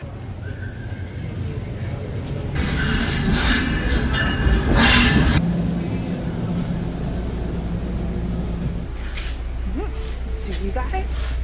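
Interior rumble of a moving train, steady low rail noise with a swelling louder passage and brief squeals and clatter, while people talk over it.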